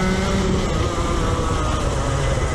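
A go-kart engine revs under light, feathered throttle during a TKC kart race at Athboy, a steady, loud, close buzzing drone that holds an even level throughout.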